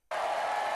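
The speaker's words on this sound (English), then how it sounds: "Round of applause right there" Sudden burst of audience applause and cheering at a streetball pickup basketball run, loud, dense and sustained after a brief quiet start.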